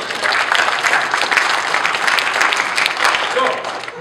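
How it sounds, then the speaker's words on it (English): Audience applause fills the room as a steady, dense wash of clapping from a live crowd at a talk, loud and continuous with no voices over it, tapering slightly at the end. "Give yourselves a round of applause."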